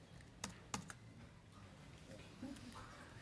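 Fast typing on a computer keyboard during a software workflow talk at a JetBrains event, heard as sharp clicks at first and then a faint, continuous patter under a quiet room.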